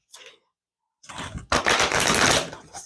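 Tarot cards being shuffled: a brief riffle, a pause, then a dense, loud burst of rapid card flutter lasting about a second and a half before tapering off.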